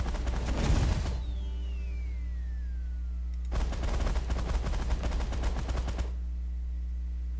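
Auto-fire gunfire in the space strategy game The Last Federation, two dense bursts of rapid shots, one brief at the start and a longer one a few seconds later, loud and with no talk over it.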